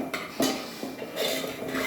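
A ladle clinks and scrapes against a pot while stirring boiled dal for dal fry, a few close metallic taps and rubs over a brief, quiet stretch with no talking.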